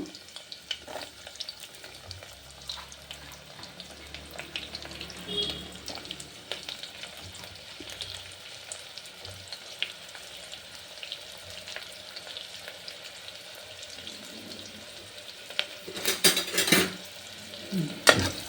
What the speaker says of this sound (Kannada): ಗಮ್ಮಂತ ಫ್ರೈ ಆಗಲಿ ನಾನು ಅದಕ್ಕೆ ಈರುಳ್ಳಿ ಹಾಕ್ತಾಯಿದ್ದೀನಿ